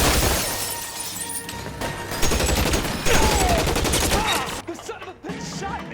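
Dense gunfire in the video game L.A. Noire, loud overlapping bursts and shots with crashing, breaking impacts filling the whole stretch, with no talk.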